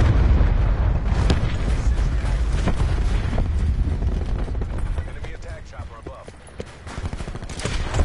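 Hellstorm missile strikes on Nuketown in Call of Duty Black Ops 4, a loud rolling mass of explosions and gunfire that rumbles heavily, thins briefly, then swells again, with a player talking over it.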